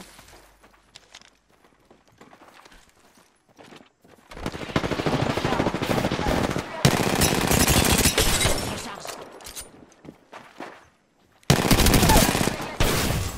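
Automatic gunfire in Apex Legends: sparse clicks and footsteps, then long, loud sustained bursts of rapid fire, a brief lull, and another heavy burst, all close.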